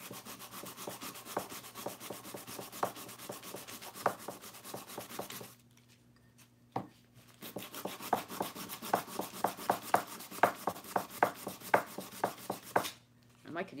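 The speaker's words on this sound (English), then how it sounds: "I could use a new piece of sandpaper is what the problem is." Sandpaper rubbed back and forth on a craft piece, steady close rasping strokes with a short quiet pause midway, then faster rhythmic strokes.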